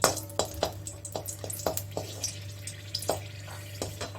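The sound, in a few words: dried red chillies sizzling in hot oil for lemon upma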